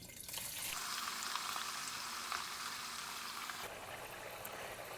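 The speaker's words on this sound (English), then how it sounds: "So I will fry 2 medium-sized potatoes on a high flame" Two medium potatoes fry in hot oil over a high flame, giving a steady, loud sizzle up close that eases slightly toward the end.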